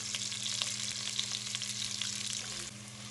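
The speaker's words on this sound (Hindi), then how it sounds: "प्याज़ों को हम हल्का सा लाइट ब्राउन कर लेंगे।" Onions frying in a pan: a steady, close sizzle with crackling pops, hissing continuously and easing slightly near the end.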